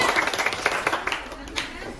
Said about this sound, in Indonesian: Beri tepuk tangan semuanya.